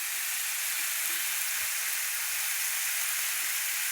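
Mutton masala sizzles in hot oil in a pan, a steady, close hiss of frying that runs evenly throughout, with a few faint soft knocks underneath.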